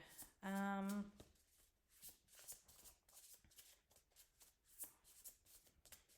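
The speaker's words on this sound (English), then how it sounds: "I'm going to keep shuffling" Cards are shuffled softly and repeatedly in quick riffling bursts, after a brief loud tone at the start.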